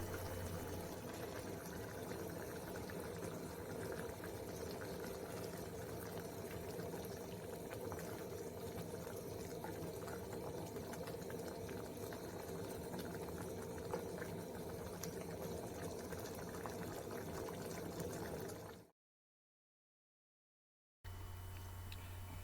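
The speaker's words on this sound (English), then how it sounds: "stir, and then let the sauce cook for about 1 minute" Coconut sauce with fish fillet and dhania leaves simmering in a pan, a steady close bubbling hiss that runs on without a break and without talk, then cuts out briefly near the end and returns.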